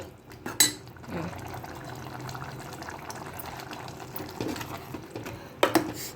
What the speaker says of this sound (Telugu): దీన్ని మొత్తం ఒకసారి కలుపుకుందామండి. ఇట్లా కలిపేసుకొని కొత్తిమీర వేసుకుందాం.